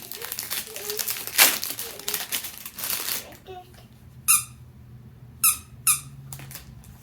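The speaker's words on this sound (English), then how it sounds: "And then this says it's a squeaker." A panda plush toy's squeaker is squeezed repeatedly, with rapid squeaks and crinkly rustling at first, then several sharp, separate squeaks spaced a second or so apart, close and loud.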